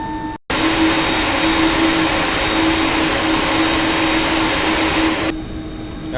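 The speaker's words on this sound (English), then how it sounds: "so we are taxiing to runway 27 now." An MD-11 airliner's jet engines taxiing to runway 27 at Memphis in Microsoft Flight Simulator make a loud, continuous whining roar with a steady tone. The roar holds after a short cutoff near the start, then drops a little near the end.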